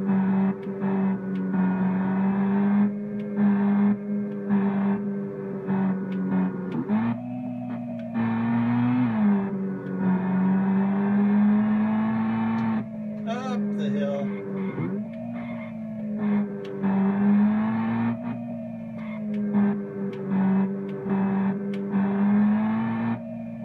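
A car in a Unity game drives laps around a tree-covered mountain, its engine droning steadily and shifting pitch up and down, with occasional tire skids, loud and continuous throughout.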